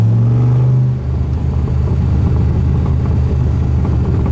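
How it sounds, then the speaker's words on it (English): A 1967 Chevrolet Corvette with a 427 V8 and four-speed revs hard, its exhaust blaring loud and close with a steady deep rumble after the first second. "listen to that back pressure."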